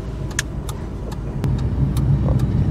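Ford Fiesta Mark III car driving around roundabouts, a steady low engine and road drone from inside the cabin with a few light clicks and rattles, no talk.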